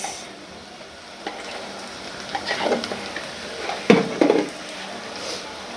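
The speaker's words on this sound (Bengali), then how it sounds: "এই যে পেস্টটা ভাজা ভাজা হয়ে গেছে" Steady low sizzle of a spice paste frying in a pan with bay leaf, garam masala and cardamom, with a few louder scraping stirs partway through; no voices.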